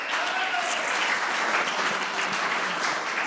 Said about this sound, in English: let's just give you a round of applause